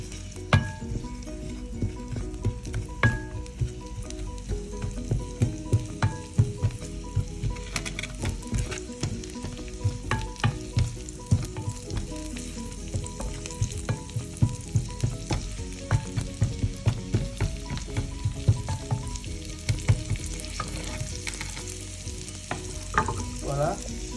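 Tomato sauce fries and sizzles in a pan while being stirred, with steady crackling and repeated scraping knocks of the spoon close by, and no voices.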